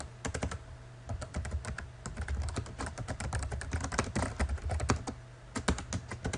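Rapid, irregular typing on a computer keyboard, close and clear, with bursts of key clicks and brief pauses over a low steady hum, no talking.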